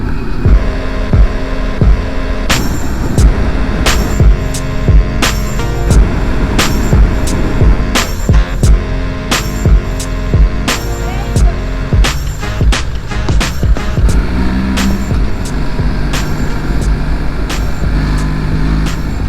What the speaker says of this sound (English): Today we are riding the new BMW R1300GS, and we're doing it in Italy.